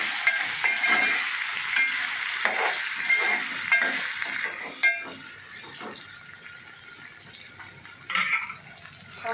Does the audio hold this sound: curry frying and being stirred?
yes